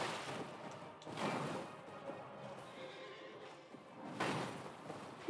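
A horse in the video game Elden Ring neighs twice, loud and close, with faint hoof clatter between the whinnies.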